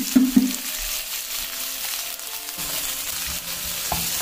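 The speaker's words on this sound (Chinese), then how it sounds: "红椒在锅里炒半分钟左右就行了" Red pepper slices stir-fry in a hot wok with a steady close sizzle and a few scrapes and knocks of a spatula.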